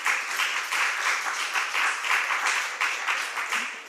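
Steady, moderately loud applause from an audience at an AI summit as entrepreneurship competition winners are announced, pulsing with individual claps and continuing without pause, no voices over it.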